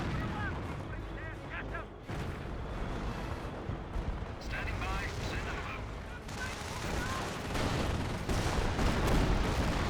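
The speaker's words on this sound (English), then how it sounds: "Great howitzer shot there from the 25-pounder" A 25-pounder howitzer in the World War II strategy game Company of Heroes fires amid a busy battle, with dull booms and crackling gunfire over a steady rumble while a commentator talks throughout.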